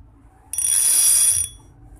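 A YOLO spinning reel with its clicker lock fixed lets out one continuous bright, buzzing click run lasting about a second, close and clear against a quiet background.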